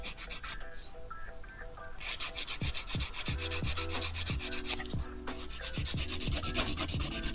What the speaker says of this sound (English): I'm going to use a nail file and just file the side walls